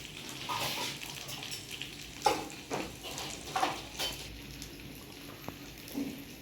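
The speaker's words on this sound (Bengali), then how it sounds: "একটু একটু হালকা জল দিয়ে কালো সর্ষে আর সাদা সর্ষেটাকে বেটে নিলাম" White and black mustard seeds with a little water are ground by hand on a stone slab. Faint, rough scraping strokes come at an irregular rhythm, with occasional soft knocks against a quiet background.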